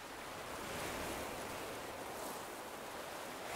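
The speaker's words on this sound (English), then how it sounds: "Do you hear the world sounds, the waves breaking, as the wind chases them ashore?" In the video game Animal Crossing: New Horizons, waves break ashore with wind as a soft, steady wash of surf, broad and continuous, faint and distant with no other sounds.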